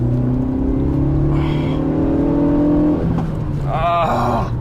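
A turbocharged Renault Megane RS engine revs up close, its pitch rising and falling through several pulls with a faint whir on top.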